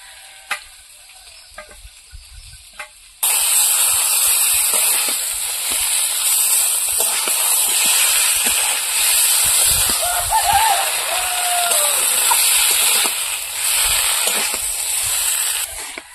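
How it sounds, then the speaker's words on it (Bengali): Taro frying with ground spice paste in a pan, starting with quiet stirring taps before the paste goes in and a loud steady sizzle erupts and holds, with scraping stirs throughout. "কচুটা একটু কষিয়ে নেব। এবার এই বাটা মশলাগুলো দিয়ে দেবো।"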